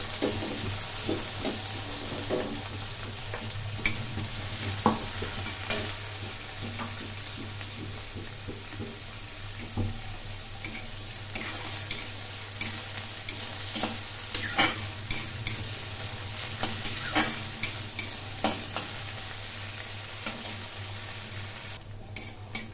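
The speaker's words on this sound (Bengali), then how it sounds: "পেঁয়াজ কুচি ভালো করে লাল করে ভেজে নেব।" Chopped onions frying in hot oil in a pan and stirred repeatedly, a close steady sizzle broken by frequent scraping spatula strokes and light metal clinks, with a low hum underneath and no talking.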